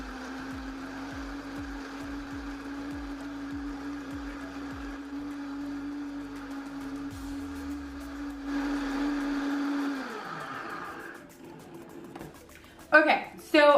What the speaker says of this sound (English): we're gonna turn our blender on, and it's gonna get loud AF